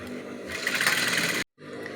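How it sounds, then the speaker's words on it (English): A sewing machine top stitches a blouse yoke in a steady, close, whirring run that stops abruptly near the end, then the motor hum resumes. "I've joined this and I've top stitched the upper side"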